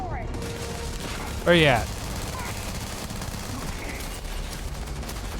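Gunfire in the Starfield video game, a short burst of rapid shots standing out once over steady background noise, with brief talk near the start.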